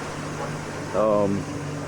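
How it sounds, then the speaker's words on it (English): A freshly rebuilt 1970 Mustang 250 engine, fitted with a new carburetor, idles with a steady low droning hum close by, and a voice briefly cuts in partway through. "But she's running now, and it sounds really good."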